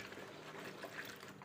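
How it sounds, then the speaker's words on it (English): Water poured into a homemade multipurpose liquid soap mixture, a soft continuous trickling splash at low volume with no talking. "she's pouring all this water"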